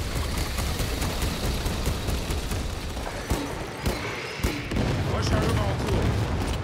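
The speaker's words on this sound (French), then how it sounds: "Les canons orbitaux." Orbital cannon strikes in the Space Marine 2 video game land as a series of sharp booms and gunfire-like blasts over a dense battle roar, with someone talking during the barrage.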